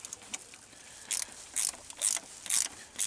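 Ratchet socket wrench clicking during a car oil change, four or five short bursts of quick metallic ratcheting in a regular rhythm, close and fairly clear against a quiet background.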